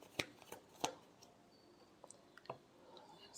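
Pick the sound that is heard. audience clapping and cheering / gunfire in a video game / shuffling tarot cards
shuffling tarot cards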